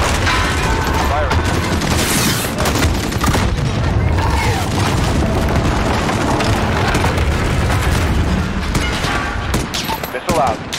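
Hellfire missile strike on a building in a Call of Duty: Modern Warfare campaign mission, heard as a dense, sustained roar of blasts and rattling gunfire with voices mixed into the chaotic battle noise.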